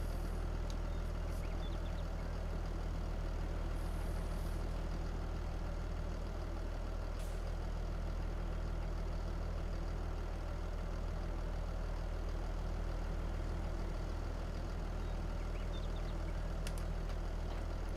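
Tractor engine idling in Farming Simulator 22, a steady low rumbling drone held evenly throughout, faint and continuous with no talk.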